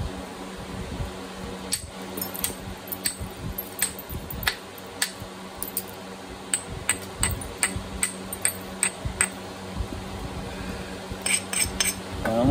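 A stone preform is knapped by striking, giving a run of sharp, bright clinking taps at irregular intervals, some in quick clusters, close and crisp over a quiet background without speech.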